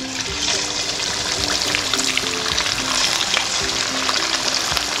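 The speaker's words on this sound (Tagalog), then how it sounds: "Deep fry natin to." Chicken wings for buffalo wings deep fry in a generous amount of oil, giving a loud, continuous close sizzle with crackling bursts and no talking.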